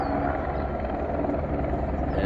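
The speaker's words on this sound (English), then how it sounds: "And the helicopters for construction over there." A construction helicopter working near the lakeside Alpine town of St. Moritz gives off a steady, fairly loud rotor and engine drone that holds constant throughout.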